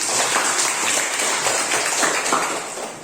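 Audience applause during a classroom lesson: a steady, dense wash of many hands clapping that holds for about three seconds, then eases off slightly at the end.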